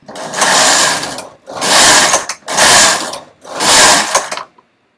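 A domestic knitting machine carriage sweeps across the needle bed four times in a steady rhythm, each pass a loud, close mechanical swish of about a second with short pauses between.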